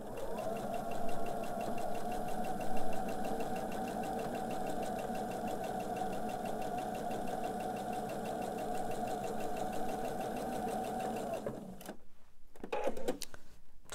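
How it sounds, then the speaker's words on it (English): A sewing machine stitching flying geese quilt units runs in one steady, continuous whirring drone for about twelve seconds, close and even, then stops, leaving a few soft handling sounds. "begin sewing down the other side"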